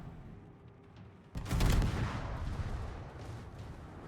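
A heavy naval gun salvo booms out in World of Warships, a sudden deep blast that rumbles and slowly fades over a few seconds above quiet background game sound.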